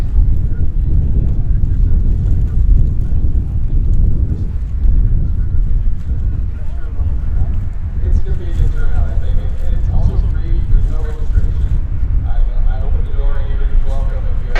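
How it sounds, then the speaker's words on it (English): A T-6 airplane on a high-speed taxi at Oshkosh, a steady loud broadband engine and prop roar with wind buffeting throughout, heard close and continuous with no pauses. "And T6, good job, welcome to Oshkosh, keep it up all the way to the end,"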